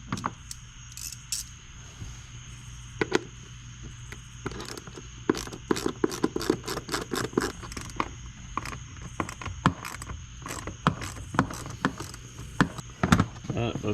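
Screws come out of the lower access panel of a Chevrolet Tahoe, heard as close, rapid ratcheting clicks in bursts over a low steady hum, with a few metallic clinks and brief pauses.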